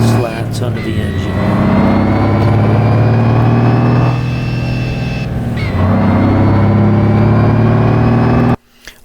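A truck engine in the BeamNG Drive video game drones and revs steadily, recorded from inside the cab and heard loud and close for several seconds before cutting off abruptly.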